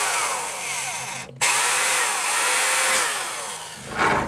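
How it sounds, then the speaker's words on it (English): A power drill boring a pilot hole in a Mazda 3 for a car side skirt: a loud, close, high-pitched whirring spin that cuts out briefly, then resumes with varying pitch. "We're gonna drill our pilot hole kind of like that."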